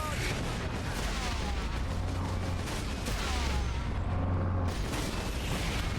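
A lascannon firing in Warhammer 40,000: Space Marine on PS3, dense continuous battle noise with heavy booming blasts and mechanical whirs throughout, loud and close, someone talking over the combat.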